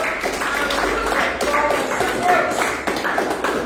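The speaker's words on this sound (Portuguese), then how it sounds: "Dá uma linda salva de palmas ao Senhor" A church congregation claps for the Lord during a Sunday worship service, a dense, steady patter of many hands filling the room and holding for several seconds.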